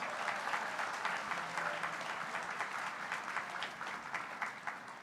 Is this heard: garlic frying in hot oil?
no